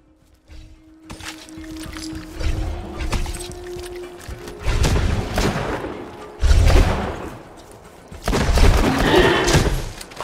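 Weapon gunfire in the Borderlands 2 video game, loud bursts of shots and heavy thumps in rough waves with rumbling explosions between them.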